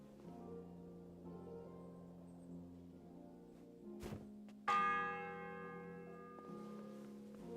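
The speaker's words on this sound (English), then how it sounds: "The fourth bell." A church bell tolls inside the game Kingdom Come Deliverance II, one loud struck note ringing out and slowly decaying over a low ambient drone, with fainter tolling beforehand.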